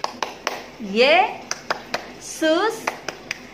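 Children at a Sunday school service clap sharp rhythmic beats in a chant, with sung vocal phrases between the claps.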